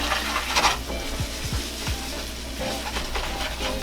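Macaroni and cheese sauce ingredients, including salt and smoked paprika, being stirred together in a pan, a soft close scraping and swishing with a faint sizzle and a few quick utensil strokes.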